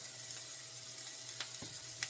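Faint, steady sizzling of reused cooking oil in a pan, a soft hiss with a few small pops and clicks, quiet and close.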